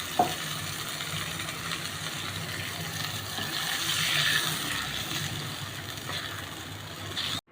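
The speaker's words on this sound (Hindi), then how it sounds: "डेढ़ गिलास मैंने इसमें पानी का डाल दिया।" Water pours into spiced masala frying in a pot for mutton Bihari boti, making a steady hissing sizzle with bubbling and a slight swell midway, close and continuous, with no voices.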